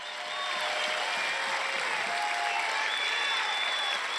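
A crowd applauds at a political rally speech, a steady, dense wash of clapping with faint cheering voices mixed in, sustained and even throughout.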